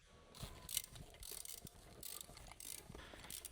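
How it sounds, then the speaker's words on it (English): A long extendable ratcheting wrench with a 19mm socket loosens the front wheel lug nuts on a Ford Focus ST, making repeated close mechanical clicks in uneven bursts over background noise. "Using the large 19mm long socket with the large extendable ratcheting wrench,"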